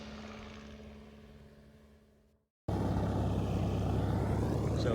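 A canard aircraft's engine runs on a ramp at a fly-in, starting as a steady droning hum that fades out and then returns abruptly as a louder, rougher, close propeller roar.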